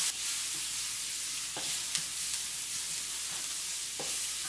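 White onions and minced garlic are stirred in a sizzling pan. Soft frying hiss runs under a few distinct scraping strokes of a utensil.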